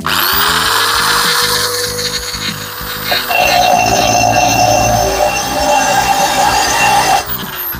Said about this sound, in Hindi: ड्रिल तिरछी की है मैंने और ड्रिल हमने चलाते हुए नीचे लेके जानी है